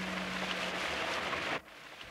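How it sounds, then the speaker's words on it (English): Rain falls steadily as an even, soft wash with a faint low hum under it, then thins out abruptly near the end. "Jess looked out at the rain."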